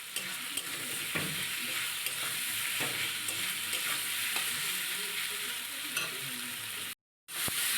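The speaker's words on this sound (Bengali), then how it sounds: "এবার যে মশলাটাকে বানিয়েছিলাম পুরো মশলাটা তেলের উপরে দিয়ে দিলাম" Spice paste sizzles steadily in hot oil for a shrimp and plant-stem dish, with scattered stirring scrapes and small crackles throughout, then cuts to silence briefly before resuming near the end.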